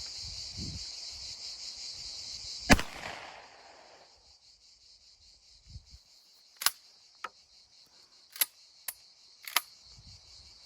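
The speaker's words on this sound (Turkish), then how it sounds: "Atış var." A single loud rifle shot cracks sharply at an outdoor range during a test firing at a motorcycle helmet, followed by a fading echo and several fainter clicks and knocks over steady insect chirping.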